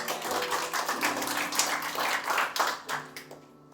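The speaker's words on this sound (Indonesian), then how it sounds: "Tepuk tangan buat Tuhan." Church congregation clapping hands for God during a sermon, a dense, fairly steady patter of many hands lasting a few seconds before tapering off, with no speech over it.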